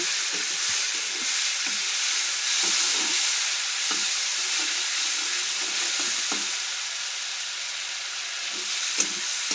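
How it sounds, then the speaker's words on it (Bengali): Rohu fish fat rubbed with salt and turmeric fries in a pan of oil, a loud, steady crackling sizzle with faint occasional spatters and no talking. "মাছের তেল একটু ভাজা"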